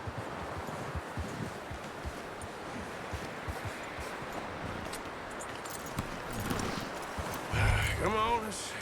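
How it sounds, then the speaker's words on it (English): In the video game Red Dead Redemption 2, a horse's steady clip-clop of hooves runs through the whole stretch, with rustling in the background and voices talking near the end. "You should really tether that horse, Arthur."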